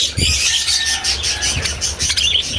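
Parakeets in a homemade flight cage chirp and tweet in quick, bright overlapping calls, close and fairly loud, with a few lower thumps and flutters beneath.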